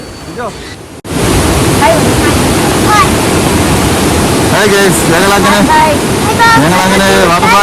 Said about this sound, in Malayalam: നല്ല മഴ കാരണം വെള്ളം നിറഞ്ഞ് ഒത്തൊഴുക്കാണ്